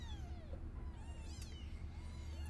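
Little kittens mewing close by, a string of several high, wavering meows one after another, some overlapping, fairly quiet against a low background hum.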